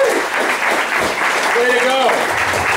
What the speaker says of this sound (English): let's give a round of applause to Matt and his staff